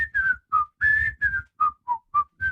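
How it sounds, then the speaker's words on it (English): Someone whistles a short, bright TV theme tune nearby, nine clean notes in a bouncy, stop-start rhythm with no other sounds. "Well, it's a famous whistling part."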